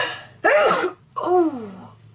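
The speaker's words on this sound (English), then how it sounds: "I hate sneezing." A person sneezes twice in close succession indoors, with a sharp, loud, close burst followed by a second, drawn-out one.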